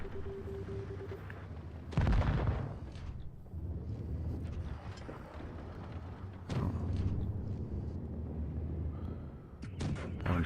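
Tank cannon shots in World of Tanks Blitz, heard as two heavy booming blasts a few seconds apart over a steady engine rumble, loud and close, with a third shorter thump near the end.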